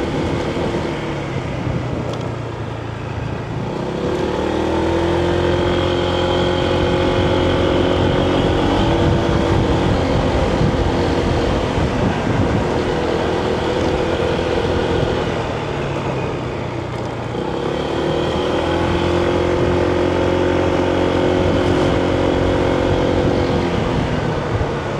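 A Honda ADV160 scooter riding on back roads in Thailand, its engine droning steadily and loudly close by, rising and falling in pitch with throttle changes, mixed with heavy rushing wind.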